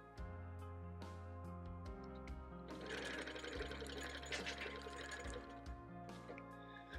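A home sewing machine quilting a Gypsy Wife quilt, its needle clattering in fast rhythmic runs that start, stop and restart, with a longer busy stretch in the middle, heard close and alone.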